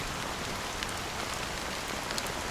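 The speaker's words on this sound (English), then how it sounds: "how long has this rain been going on for?" Rain falls steadily on surfaces in a scene from the video game Honkai Star Rail, a dense even patter with a few brighter drop hits, close and constant, with no talk.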